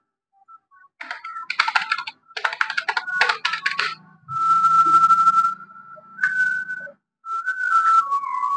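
Bursts of computer keyboard typing while entering an ID number, quick clustered keystrokes alternating with a sustained tonal whistle, close and clear with no talk.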